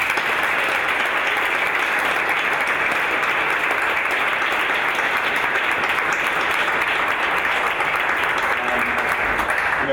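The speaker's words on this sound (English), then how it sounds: "So give them a round of applause." An audience at a Board of Education meeting applauds teachers and counselors, a continuous wash of many hands clapping that holds steady and loud for about ten seconds.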